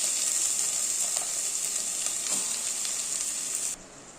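Amaranth leaves sizzling and frying with browned onions in a hot pan, a loud steady hiss with faint stirring scrapes, dropping away abruptly near the end.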